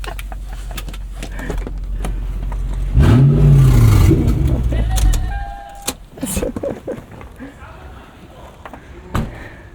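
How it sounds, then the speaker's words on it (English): A 2000 Lexus LX 470's engine, at 300,000 miles with a blown-off exhaust, revs up loud and rough with a raspy, unmuffled exhaust note, then settles to an idle amid clunks and brief voices. "The exhaust blew off. It sounds like it."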